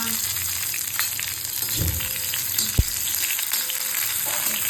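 Onion dropped into hot oil already frying coconut, garlic and ginger, a close, steady sizzle with a sharp burst as it hits the pan and occasional stirring clinks.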